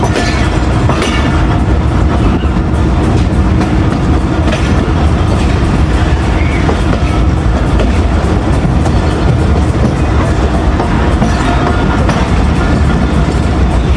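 Karachi Express passenger train from Multan to Lahore running along the loop line at Lahore Cantt, heard from on board as a loud, steady rumble with rhythmic clickety-clack of wheels over rail joints and no talk.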